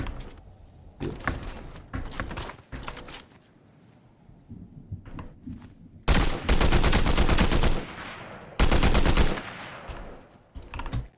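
Fortnite gunfire rattles in bursts, scattered single shots and short volleys early on, then two long, loud sustained streams of rapid automatic fire, with no talk.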